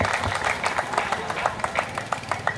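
A hasya kavi sammelan audience claps along at a comedy poetry gathering, bursts of sharp hand claps in a loose rhythm, fairly close, with a little background crowd murmur.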